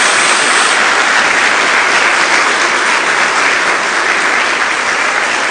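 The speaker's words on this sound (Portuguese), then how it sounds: "Dê uma salva de palmas a Jesus." A church congregation applauds loudly and continuously, dense clapping filling the room without a break for several seconds.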